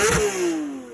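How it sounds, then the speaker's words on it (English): A Porsche 911 992 GT3 RS with its naturally aspirated flat-six engine snarls in a loud, high rev that peaks and then falls away, close and alone, lasting about a second. "the glorious sounding, naturally aspirated flat 6"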